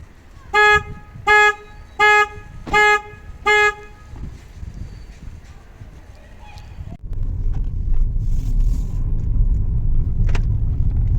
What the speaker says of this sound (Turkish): Şu an kilitlediği sesi duydunuz